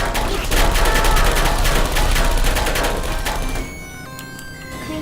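Turrets in Portal 2 fire in a loud, rapid mechanical rattle for several seconds, then the barrage cuts off into quieter game tones and beeps.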